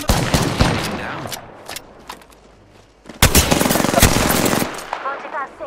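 Video game gunfire from Apex Legends: rapid automatic bursts and single shots crack loudly and close, with a long dense volley near the end and voices in between.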